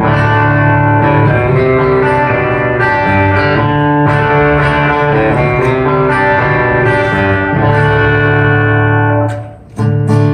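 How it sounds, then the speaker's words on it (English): An acoustic-electric guitar played on stage or in the studio, moving from acoustic tones to a fat, clean electric tone, sounds as sustained, loud, ringing chords filling the clip without talk. "a musician playing on stage or in the studio can easily and seamlessly move through from acoustic tones all the way to a fat, clean electric tone."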